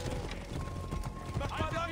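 Horse hooves clip-clop at a steady trot in the video game Assassin's Creed Origins, mixed with other game sounds and with a person talking over them.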